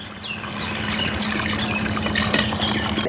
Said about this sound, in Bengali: সেদ্ধ হওয়ার জন্য পরিমাণ মতো পানি দিয়ে দেবো